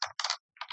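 Keys clatter on a computer keyboard while an accounting entry is typed, two quick close bursts of tapping split by a short pause.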